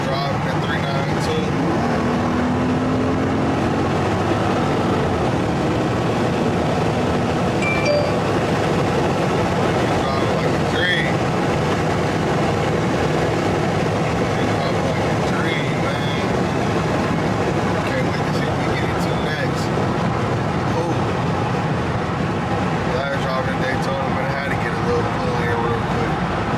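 Dodge Scat Pack 392 car on the road, a continuous cabin drone of engine and tire noise with passing traffic, someone talking over it throughout.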